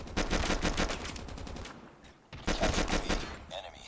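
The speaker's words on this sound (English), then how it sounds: "we're gonna use this pistol" Rapid pistol gunfire in the mobile shooter game Call of Duty Mobile, two loud bursts of quick repeated shots separated by a short lull.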